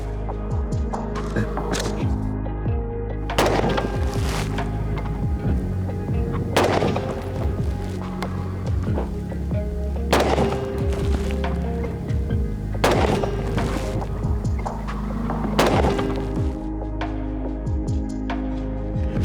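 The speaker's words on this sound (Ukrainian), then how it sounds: "і знову постріляємо дистанції 200 та 300 метрів" An AR-15 type carbine fires on a range at a 200-metre distance, loud sharp single shots spaced several seconds apart with short echoing tails and a murmur of background noise.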